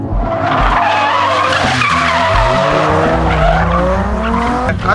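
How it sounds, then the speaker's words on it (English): A car drifting on a track, with loud sustained tire squeal and skidding over a revving engine whose pitch climbs and falls, close and continuous. "That's drifting."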